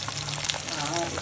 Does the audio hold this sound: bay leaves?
yes